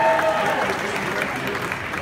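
An audience applauds, a dense, steady wash of clapping from a large crowd with a voice talking over it.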